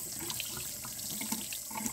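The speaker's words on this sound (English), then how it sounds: "What we want to do is we want to kind of rinse it in warm water" Warm tap water running into a sink while fabric is rinsed to wash out excess dye, a steady close splashing flow with small irregular sloshes, fairly quiet and without talk.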